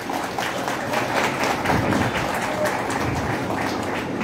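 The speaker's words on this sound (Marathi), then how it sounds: "जोरदार टाळ्या वाजवायच्या आहेत." An audience at a book launch event claps together in a dense, sustained round of applause, steady and fairly loud throughout.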